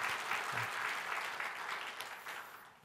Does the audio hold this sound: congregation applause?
yes